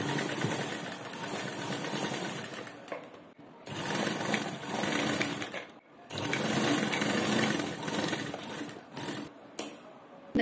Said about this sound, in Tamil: இப்போ இந்த சைடும் அரை இன்ச் தள்ளி தைச்சிட்டு வந்துடலாம்.